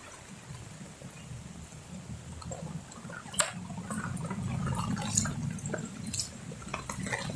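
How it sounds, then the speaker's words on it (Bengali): Rainwater drips and trickles on a monsoon morning after a night of rain, with scattered close drops and a steady low watery rush that grows slightly fuller toward the end. "সারা রাত বৃষ্টি পড়ছে আজকে।"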